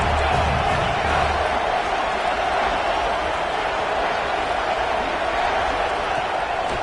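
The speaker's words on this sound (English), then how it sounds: "The crowd elevating its energy, willing this defense to get a stop on this big third down." Packed stadium crowd at an Oklahoma vs South Carolina football game roars steadily before a big third down, a dense and loud wash of cheering that holds unbroken throughout.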